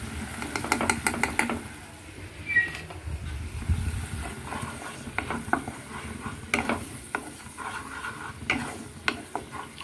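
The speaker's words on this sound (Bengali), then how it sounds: "পেঁয়াজ বাটার সাথে যখন পেঁয়াজটা একটু ভাজা ভাজা হয়ে যাবে" Onion paste frying in a pan while being stirred, with scraping and clinking of the spoon against the pan over a low sizzle, fairly close and moderate in level, no voices.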